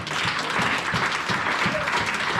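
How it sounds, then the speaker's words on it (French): A church congregation applauding during a Sunday service, a steady, dense clatter of many hands clapping in a reverberant hall, sustained throughout. "Acclamons le Seigneur."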